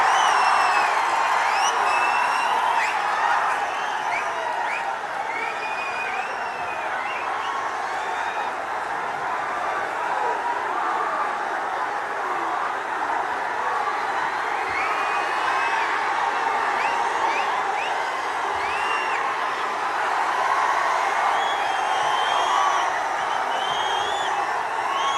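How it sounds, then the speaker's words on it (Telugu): A large crowd at a BRS political rally in Telangana applauds and cheers in a continuous loud roar, with scattered whoops over a dense wash of clapping. "అందరు గట్టిగా చప్పట్లు కొట్టి స్వాగతం చెప్పవలసిందిగా"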